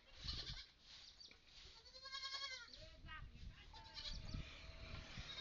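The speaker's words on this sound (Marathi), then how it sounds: "आल्या का मामा शेळ्या?" Goats bleat repeatedly on a farm, a series of wavering, nasal calls rising and falling amid people talking nearby.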